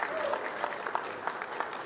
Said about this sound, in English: So please give Travis a big round of applause